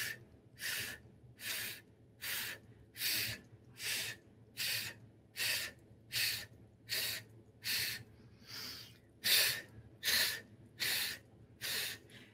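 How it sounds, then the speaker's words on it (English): Rhythmic breathing during a facial workout exercise: about thirteen sharp, hissy breaths blown out in a steady cadence, each roughly a second apart, close and fairly loud over a faint low hum. "you're breathing in and you're blowing out the opposite side where you placed your hand"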